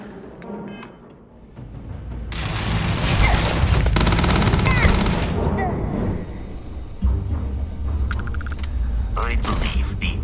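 Dense bursts of gunfire in Starfield crackle and boom in a loud, sustained fusillade, then drop back to scattered shots with voices speaking over the combat.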